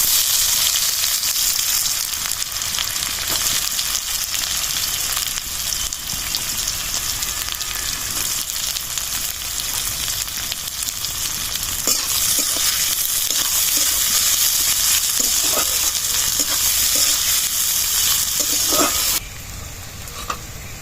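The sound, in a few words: chopped onion, dried chili, bay leaf, cumin frying in oil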